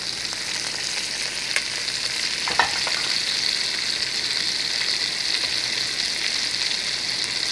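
Sausage and bacon sizzle in a pan for lentil and vegetable soup, a dense, steady crackling fry with a few brief clinks and scrapes of stirring, and no voices.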